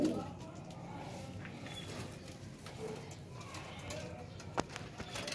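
Pigeons coo softly at a rooftop loft amid outdoor background noise, low and fairly distant, with a faint voice and scattered knocks in the mix.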